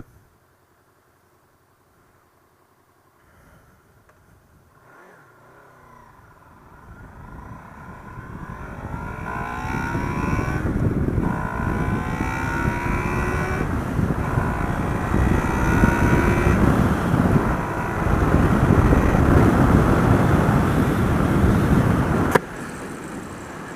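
A Honda Crossrunner motorcycle on a road test ride: from near quiet, the engine and wind roar build over several seconds into a loud, steady rush that climbs slightly as the ride goes on.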